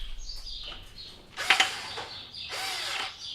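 A power driver whirs in two short, close bursts while tightening down a magnetron thermostat in a Jenn-Air microwave, with faint mechanical clicks before and between.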